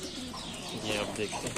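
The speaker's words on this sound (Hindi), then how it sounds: "कुछ कबूतर यहाँ से दाना उठा रहे हैं, कुछ अपने लिए घोंसला बना रहे हैं" Fantail pigeons coo and chirp close by in a loft where some birds pick up grain and others build nests, with someone talking briefly over the calls.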